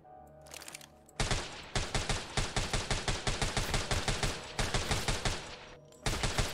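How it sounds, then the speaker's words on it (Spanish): Rapid rhythmic gunfire from a zombie-shooting video game, loud repeated shots in quick regular bursts with a short pause before the final volley. "Le pegué un montón de tiros."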